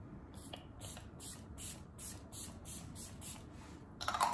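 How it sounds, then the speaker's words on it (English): Repeated short pump sprays of Tarte High Performance Natural Stay Spray setting spray, about eight even bursts in a steady rhythm, close and fairly soft over a low background hum. "This is the Tarte High Performance Natural Stay Spray."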